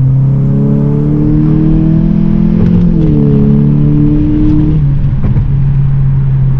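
A 2019 Honda Civic Sport with a K20C2 engine and KTuner tune pulls hard in second gear, its engine drone climbing steadily in pitch, then dropping briefly near the end before holding steady.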